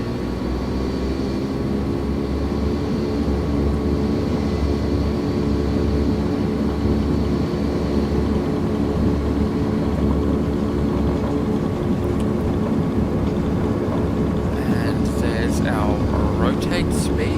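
Steady, loud propeller-aircraft engine drone at full takeoff throttle in a flight simulator game, holding a constant roar for the whole stretch with a voice speaking over it near the end.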